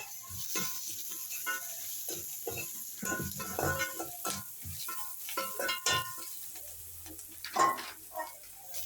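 Onions sauté in a pan with chili powder, crackling and sizzling in irregular bursts with stirring clicks and scrapes, close and fairly quiet, with no talking.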